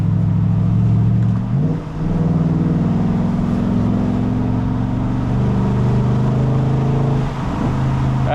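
A straight-piped 500bhp Jaguar XFR cruises at normal pace, its exhaust a loud, steady low drone with a couple of brief dips and rises in pitch as the throttle shifts.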